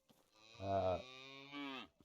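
A single long, low cow moo from the video game Medieval Dynasty swells loudly, then trails into a higher, drawn-out bellow before fading, alone without any talk.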